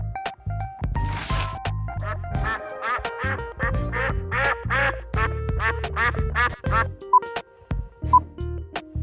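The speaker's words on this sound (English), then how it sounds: "Duck." A duck quacks again and again in quick, uneven bursts, loud and close, over a busy background of other sounds.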